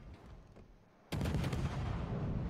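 A ship's gun fires in a naval video game: a sudden heavy boom after a quiet moment, followed by a sustained rumbling tail, with no talk.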